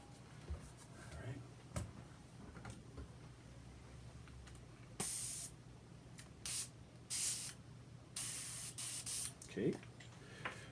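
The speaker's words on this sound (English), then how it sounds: "this is another airbrush that we're going to use" An airbrush sprays paint in several short hissing bursts of varying length, close and fairly loud against a quiet room with small handling clicks between them.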